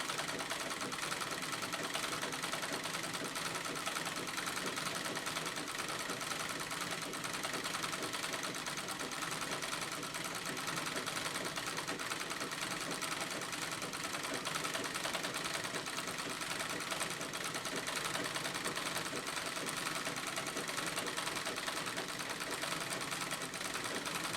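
A sewing machine quilting white denim runs continuously at a steady, even pace, a dense mechanical whir and rapid stitching hum with no pauses.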